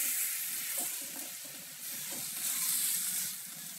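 A pot of mung bean stew with pork trotters and eggplant being stirred, a steady scraping stir with a soft simmering sizzle underneath, continuous and close with no talking.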